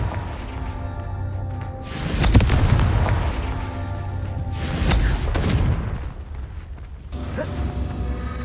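Booming blasting-curse explosions from the Hogwarts Legacy video game erupt twice in heavy, rumbling bursts about three seconds apart, with crackling debris and a sharper impact near the end over game ambience.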